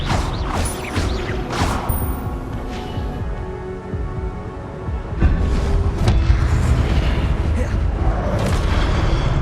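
Spells cast in Hogwarts Legacy burst out as a series of whooshing blasts and impact booms with clanking mechanical textures, loud and close, with a voice calling out over the action.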